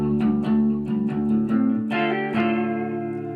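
Electric guitar in a clean tone run through an effects pedal, a series of plucked notes and chords ringing out with a shimmering, modulated sustain, played alone and up close.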